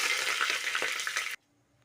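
Whole garam masala spices, including cardamom and cumin, hit hot ghee with a loud, dense sizzle that crackles steadily for over a second and then cuts off abruptly into near silence.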